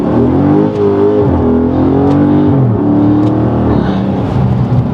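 A 2015 Dodge Charger Scat Pack engine at 170,000 miles revs hard and close as it accelerates, a loud rising growl that dips briefly as it shifts and then climbs again.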